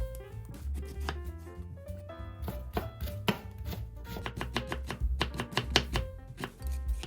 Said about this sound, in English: peel the daikon and slice very thinly before cutting into matchsticks